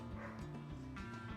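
Dogs barking and yipping at a sheepdog competition at an agricultural show, a few short barks mixed into a dense, noisy crowd ambience.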